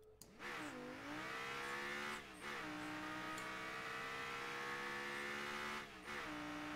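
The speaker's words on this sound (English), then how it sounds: "let's listen to the engine" A car engine in the video game Rocket League, the Centio V17, revs up and down in smooth rising and falling sweeps, with a few short pauses between pulls, clean and synthetic-sounding.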